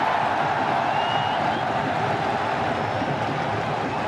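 A dense, steady roar of a large cricket crowd cheering after a boundary four, loud and continuous with no breaks, filling the stadium.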